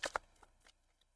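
A deck of tarot cards being shuffled, a few quick riffling bursts right at the start and then softer scattered card sounds that fade out, close and quiet.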